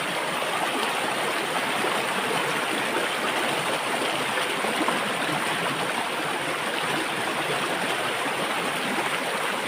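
Clear river water rushes steadily in a natural setting, a dense, continuous hiss and burble that stays loud and unbroken throughout, with no voices.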